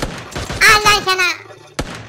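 Gunfire in the mobile battle royale game PUBG Mobile, a quick burst of sharp shots followed by one more crack, mixed with a player's excited voice talking over it.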